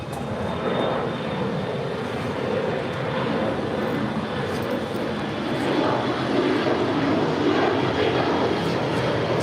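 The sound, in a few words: Alaska Airlines Boeing 737 MAX 9 jet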